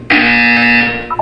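A single loud electronic buzzer in the video game Portal 2 sounds for about a second, a harsh steady tone that cuts off abruptly.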